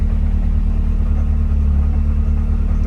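Worn clutch throwout bearing on a 1986 Toyota Corolla AE86 GTS, heard as a steady, close drone over the low rumble of the idling engine, continuous and unbroken with no talk.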